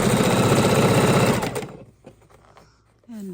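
A sewing machine stitches quilt blocks into rows, running as a loud, steady close-up whir for about a second and a half before stopping abruptly, followed by a short stretch of quiet handling noises.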